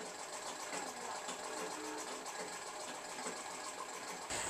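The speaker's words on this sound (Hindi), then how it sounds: "पंद्रह बीस जन के समूह आवा है मन के सब कपड़ा सिलाई करथन" A sewing machine stitches school shirts, tunics and trousers in a workshop run by a women's self-help group, whirring steadily and close up throughout, with a brief pause near the end.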